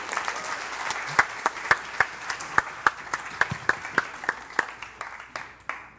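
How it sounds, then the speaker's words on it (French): A small audience applauds a guest arriving on stage, with scattered hand claps settling into a fairly regular rhythm of distinct claps that thin out and fade toward the end. "Il est venu d'Arles, on peut l'applaudir quand même."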